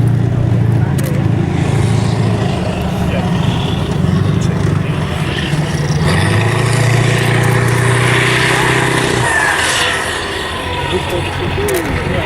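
An armoured military vehicle's engine starts and runs at a Tankfest battle display, a loud, steady low rumble lasting throughout with a slight drop near the end, a commentator's voice heard over it.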